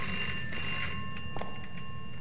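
In the video game Bokkie a telephone rings with a steady bell-like electronic trill over low background hum, continuous through the short stretch with no talk.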